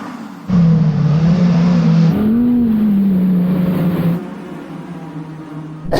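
An Audi R8 launching from standstill on snow on winter tyres, a loud, steady engine drone holding a roughly constant pitch for several seconds with a small rise midway, then cutting back near the end.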